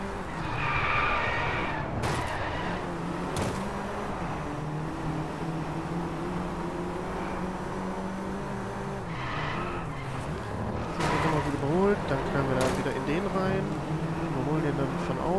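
A racing car engine in the Driveclub video game runs at full throttle, a loud sustained drone with pitch shifts as gears change, mixed under continuous excited talking from a player.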